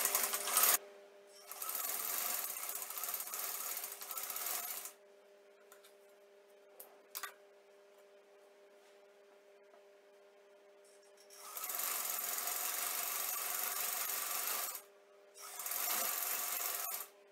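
Sewing machine stitching a shalwar, running in two loud bursts of rapid mechanical whirring separated by a long quiet pause with light clicks, then resuming in two more bursts; no talking.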